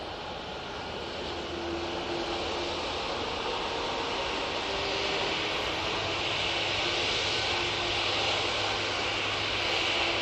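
Propeller aircraft at Manchester Airport, a steady broadband engine drone with a faint low hum, held at an even moderate level throughout with no talking.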